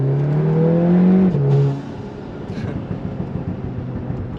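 A VW Golf R with an IE Stage 2 exhaust pulls hard with its exhaust valves closed, giving a loud, muted engine drone that rises and then eases off into a quieter, rumbling idle-like tone.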